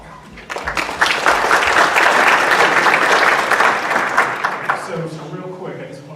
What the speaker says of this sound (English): I want to give you all a round of applause